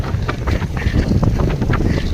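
Very strong sea wind at Capaluhan buffeting the microphone with a loud, continuous roaring rumble and gusty whooshes.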